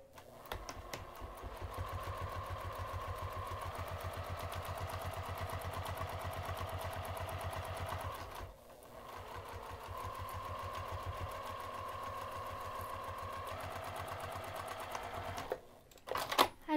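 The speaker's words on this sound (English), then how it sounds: "we're gonna sew using a half inch seam allowance, and we're gonna stop sewing when we reach the line" A sewing machine stitches a half-inch seam on a craft bag, running steadily for about eight seconds, pausing briefly, then running again before stopping with a few clunks of handling.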